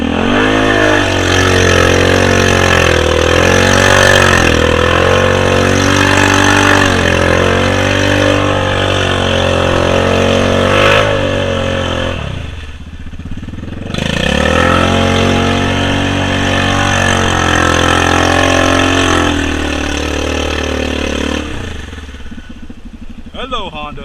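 A Honda side-by-side UTV engine drones loudly and close as it works through an off-road obstacle, revving and easing with a brief dip midway, then climbing again.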